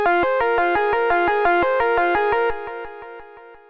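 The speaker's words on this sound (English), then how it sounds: "I've set up a little synth riff out of Operator, and it's going into a regular delay" A bright synth riff from Ableton's Operator synth, rapid evenly spaced notes run through a plain delay with no ducking, the delay tail smearing each one, loud and steady before fading away at the end.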